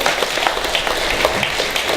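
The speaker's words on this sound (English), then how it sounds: "big round of applause to Phoenix Startup Week" Applause from an audience at a Phoenix Startup Week panel event, a steady dense wash of clapping with no one talking over it for the whole stretch.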